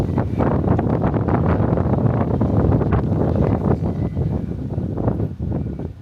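Strong wind gusting straight into a microphone outdoors, a loud continuous buffeting roar with rumbling surges that ease slightly toward the end.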